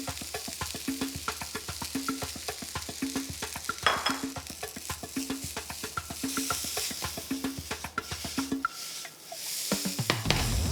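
Cooked jasmine rice and spring onion stir-fried in a pan: a steady close sizzle under rhythmic, regular scraping strokes of a spatula, then the stirring pauses near the end, with no speech.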